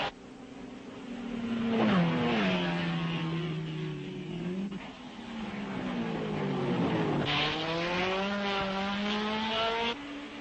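Four 1961 Formula One Ferraris race at Spa for the Belgian Grand Prix, their engines snarling loudly and continuously with rising and falling pitch as they accelerate and shift, no voices over them.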